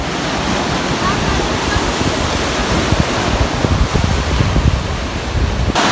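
Surf washes in at San Blas beach on Gozo, Malta, as a steady broadband rushing roar with faint low thumps and some wind buffeting on the microphone, heard without talk.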